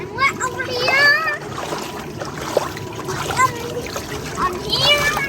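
A toy monster truck splashes into water during pretend play on a giant waterslide, with a few short wet splashes under constant excited child chatter.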